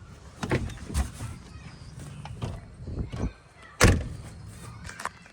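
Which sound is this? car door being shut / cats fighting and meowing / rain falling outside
car door being shut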